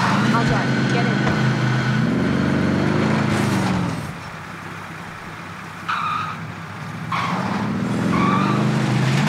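Car engine droning and revving in the Warzone battle royale game, loud and steady with a tire skid, briefly dropping quieter mid-clip before surging back with a few short higher-pitched effects.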